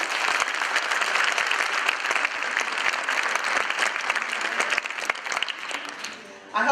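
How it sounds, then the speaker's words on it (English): An indoor audience applauds for fashion show models in a dense, steady burst of clapping that holds for several seconds before tapering off near the end. "Another round of applause for our models."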